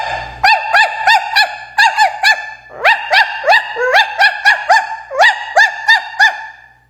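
A voice imitates a Chihuahua's yappy barking, a rapid series of high, sharp yips in quick bursts, close and loud.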